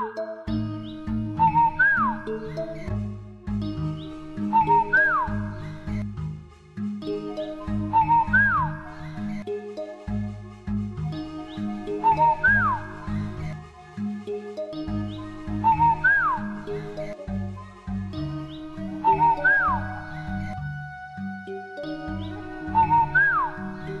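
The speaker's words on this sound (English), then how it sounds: "The emperor was happy to hear the nightingale's song" A nightingale's song is rendered as a bright whistled phrase that repeats every few seconds over a steady, gentle musical backing.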